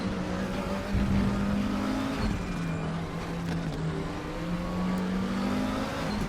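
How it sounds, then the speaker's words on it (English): A McLaren 650S GT3 race car engine in the RaceRoom sim at Paul Ricard drones steadily at high revs, holding a constant buzzing pitch near the limiter with small wavering shifts and no voices. "This car over-revs really easy."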